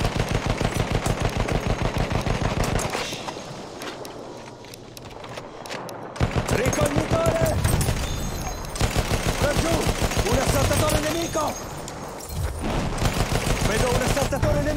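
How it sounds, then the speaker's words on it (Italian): Enemy machine guns in a World War I battle in Battlefield 1 let loose in rapid bursts of gunfire, loud and dense, broken by short lulls, with voices calling out in the mix. "Attenzione, mitragliatrice nemica!"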